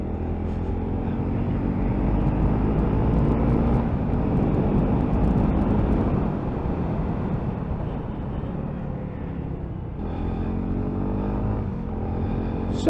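A 2022 Honda CRF300L motorcycle accelerating down a narrow lane, its engine a loud, continuous droning roar that swells and eases with gear changes, heard from on the bike with no talk.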